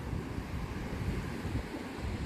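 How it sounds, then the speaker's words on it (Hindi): Sea waves wash onto the beach at Arambol, Goa, a continuous low rumbling surf mixed with wind buffeting the microphone, steady and moderately faint. "लहरों की आवाज़, रात को ठंडी ठंडी हवा चलती है"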